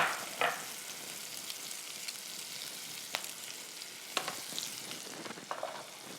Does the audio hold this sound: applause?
no